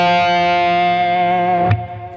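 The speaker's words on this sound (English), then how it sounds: "with vibrato, with accelerating the vibrato, you make the overtones come" A single sustained electric guitar note played through heavy distortion, held steady with vibrato that brings out shimmering overtones, loud and alone, ending with a sharp pick or string transient near the close.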